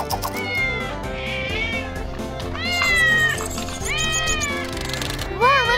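A kitten in a children's cartoon meows several times in high, rising and falling cries, spaced a second or so apart over a tonal musical background.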